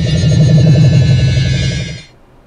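StarCraft Protoss shield battery building sound from the video game, a loud buzzing electronic hum with a warbling pulse, holding steady for about two seconds before cutting off abruptly.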